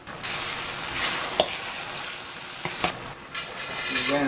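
Onions sizzle and fry in oil in a home kitchen pot, a steady dense crackle with a few sharp pops and spatters, close and fairly loud with no talking.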